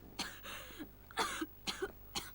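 A character in the video game Yakuza: Dead Souls coughs in a fit of four harsh, raspy bursts spread evenly across a couple of seconds, close and fairly loud, with no talk over it.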